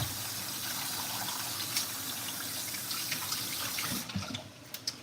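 Steady rushing, bubbling water close by, a continuous hiss of boiling with a few sharper pops toward the end, water in a pot for cooking rice.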